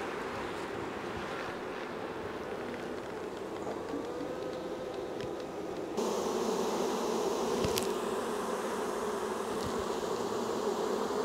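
Honey bees buzz around an opened hive, a dense hum of many insects with individual bees droning past nearby, getting louder midway through with brief sharp sounds.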